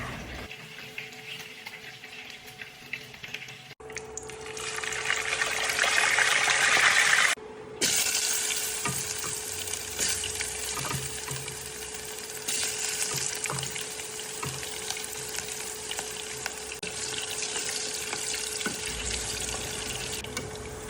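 Steady sizzling and frying of vegetables, onion, ginger and carrots with fish in a pan, starting after a few seconds and continuing loudly throughout, with occasional stirring scrapes and no speech.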